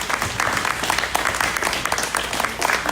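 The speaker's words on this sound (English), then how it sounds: "Give them a round of applause there." Steady applause from a crowd at a cattle field day, dense clapping filling the whole stretch with no pauses, fairly loud and close.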